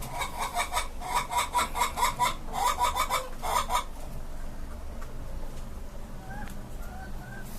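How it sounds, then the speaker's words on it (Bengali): Chickens on a farm of native Bangladeshi hens and a few Tiger hens cluck in rapid bursts over the first four seconds, then the flock quiets to a soft murmur with a few faint chirps in the background. "এখানে আপনার দেশি মুরগি আছে আর আপনার অল্প কিছু টাইগার মুরগি আছে"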